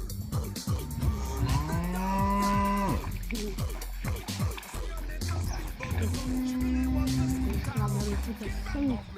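Cattle wading around a swimming pool in Katunguru low out two long, drawn-out moos, fairly close and loud, over splashing and background voices.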